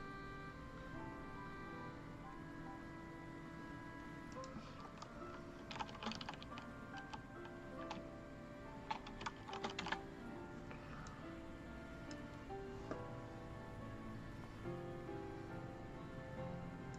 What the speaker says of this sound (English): He's typing right now.